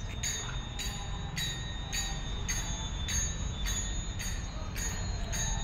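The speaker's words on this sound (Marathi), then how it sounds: "हा तो सर्वात मोठा घंटा आहे जो एंट्रीला मंदिराच्या एंट्रीच्या वेळेस मेन डोअरला बांधलेला आहे" A large bell hung at the main entrance door of a temple is struck again and again in an even rhythm, about nine clanging strokes with ringing tones that hang between hits over a steady background hum.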